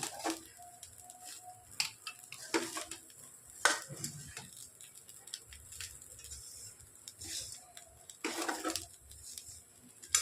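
A spoon stirs lemon rice mixed with chopped coriander in a pan, giving soft scraping and patter with a few sharper clinks against the metal, steady and close over several seconds.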